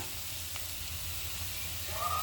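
Spices tempering in hot oil for fenugreek-leaf lemon chitranna rice give a steady, soft sizzle throughout, with a slight rise in crackle near the end.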